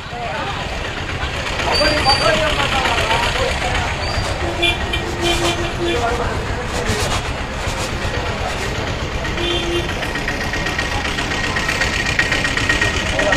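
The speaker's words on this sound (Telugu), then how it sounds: "తిప్పలకట్ట బస్సు ఇది." The Thippalakatta bus engine idles with a continuous throaty rumble and knocking texture. Voices and passenger chatter carry on throughout over a busy background.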